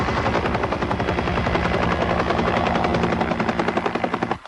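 A helicopter landing on a ship deck throbs loudly and close with rapid rotor chopping, then the beat slows and winds down to a stop at the end.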